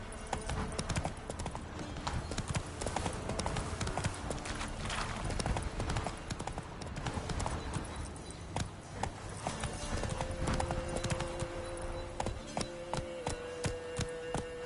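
Hooves of Roach, the horse in The Witcher 3: Wild Hunt, clip-clopping in a steady fast galloping rhythm that runs the whole time, loud and close, with game sounds and faint voices mixed in.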